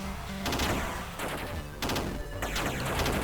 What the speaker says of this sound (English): giving the enemies more abilities, like shooting 3 shots in a row like those enemies are doing